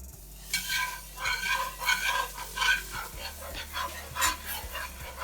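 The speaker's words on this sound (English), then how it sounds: "we're gonna add this flour as quickly as we can and whisk like crazy without splashing ourselves with hot oil" A whisk scrapes rhythmically through flour being added to very hot oil for a dark roux, a series of bright stirring strokes over a low sizzle, fairly close.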